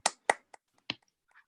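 A single viewer claps hands four or five times, sharp and sparse, close by in an otherwise quiet room, with the last clap softer than the rest.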